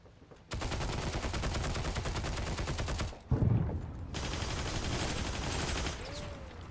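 Gunfire in the video game Heroes & Generals, heard as loud rapid strings of shots in two long sustained bursts separated by a brief gap with a sharper crack, with no talking.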